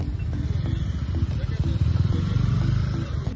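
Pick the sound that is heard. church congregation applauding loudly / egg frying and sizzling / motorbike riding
motorbike riding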